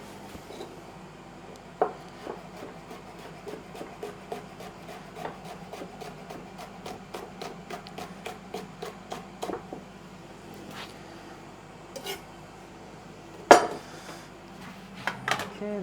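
A knife chops chilies on a board in steady rhythmic knocks, dozens of close, crisp taps in a regular run, with a few louder clacks near the end and no talking.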